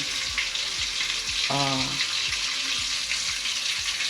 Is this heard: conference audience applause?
no